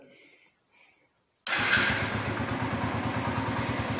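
After a quiet pause, a Kuba Xboss 50 motorcycle engine with 243 km on it starts abruptly and settles into a loud, close, rapid chugging idle.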